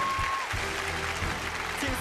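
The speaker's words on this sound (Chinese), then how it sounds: "掌声再次送给静思" Studio audience applause at a televised Chinese talent show, a steady wash of clapping filling the whole stretch with a voice talking over it.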